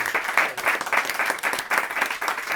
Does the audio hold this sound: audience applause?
yes